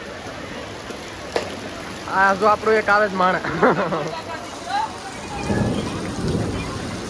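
Heavy monsoon-style rain in Surat hisses steadily in the background while someone speaks up close over it, with the downpour growing more prominent near the end.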